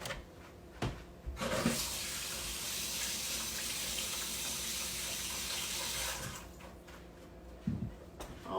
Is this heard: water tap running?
yes